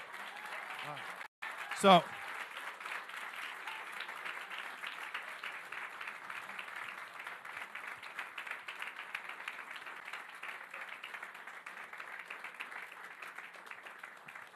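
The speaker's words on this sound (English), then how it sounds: "I was going to ask everyone to give Magnus and everyone who played against Magnus a big round of applause" Applause from spectators at a Magnus Carlsen simultaneous chess exhibition, a soft, even wash of clapping that runs steadily after a brief spoken word and a single sharp knock near the start.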